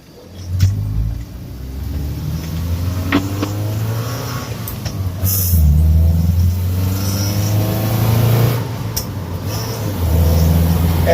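A Mitsubishi Mirage street race car, rough around the edges with a busted inner wheel well and a hole in the floorboard, drives with a loud, steady engine drone and rising revs, heard from inside the cabin.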